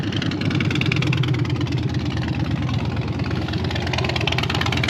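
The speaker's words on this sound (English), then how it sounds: "let that motorcycle go by." Motorcycle engine idling nearby outdoors, a loud steady rapid-firing thrum with an even rhythm throughout.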